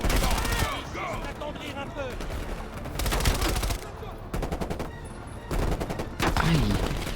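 An MP5 submachine gun fires in the video game Call of Duty Cold War, producing loud, rapid automatic bursts in several clusters with brief pauses between, while players talk underneath.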